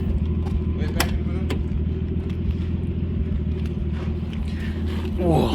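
Low, steady engine rumble from inside a Nissan Skyline GTS-T R32 as it pulls away for a drive, close and continuous, with a faint rise near the end.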